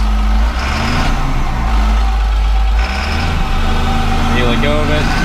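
A CAT D5 bulldozer's diesel engine runs at wide open throttle, a loud, steady low-pitched roar with a rising whine near the end, heard close up while someone talks over it.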